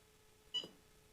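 A single short electronic beep from a Fomako PTZ camera joystick controller, faint and clipped, sounding once against a quiet background with a low steady hum.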